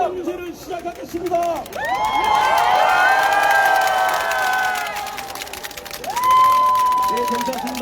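A crowd of supporters at an outdoor market campaign rally roars and cheers loudly, a sustained wave of shouting voices that swells, eases off, then surges again with whoops and applause.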